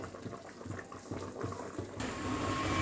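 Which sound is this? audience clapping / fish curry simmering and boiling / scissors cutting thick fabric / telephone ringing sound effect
fish curry simmering and boiling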